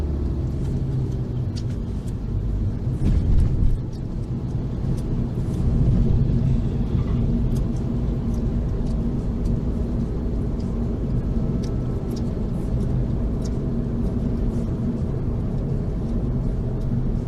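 Steady, loud engine rumble at a car show, with cars idling and revving close by, a broad low drone that swells around the middle and carries on throughout without speech.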